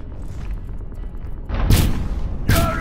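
Gunfire in the video game Fallout 3: a muffled low rumble, then two sharp, loud shots about a second apart with brief ringing tails, no voices.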